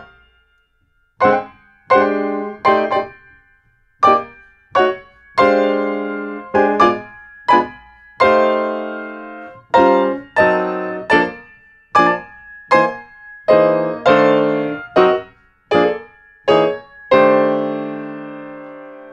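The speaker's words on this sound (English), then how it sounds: "here's what just the changes or the harmony of the blues progression sounds like" Chords of a jazz blues progression on a harmonic instrument, struck one after another in a steady rhythm with some held longer. Each chord rings clearly and decays, with no talking.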